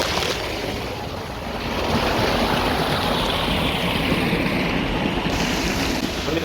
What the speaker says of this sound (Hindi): ये ट्यूबवेल है हमारा, पानी आ रहा है देखो।